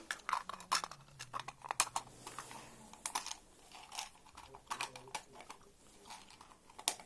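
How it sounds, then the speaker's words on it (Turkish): Candy-coated Bonibon chocolates tumble into the lower part of a toy box, a busy run of small hard clicks and rattles in quick irregular bursts, close and fairly quiet with no voices. "Şu kutuyu alıp şöyle bonibonları alt kısma dökün abi"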